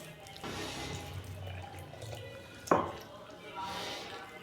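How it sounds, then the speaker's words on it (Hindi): Half a cup of water pours into a wheat-flour garlic paratha liquid batter, a soft splashing trickle with a brief clink partway through, while someone speaks over it. "½ कप मैं इसके अंदर पानी और डालूंगा।"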